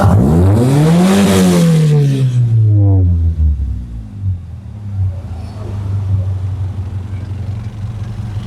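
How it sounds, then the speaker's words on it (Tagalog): A Toyota 4AF engine rises in a loud, close rev toward its rev limiter, then falls back and settles into a steady, rumbling idle. "pakinggan muna natin yung andar niya"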